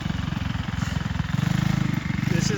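A small-engine mini bike with a 6,000 rpm racing motor runs close by with a fast, buzzing pulse that surges in pitch as it revs. A voice is faintly mixed in.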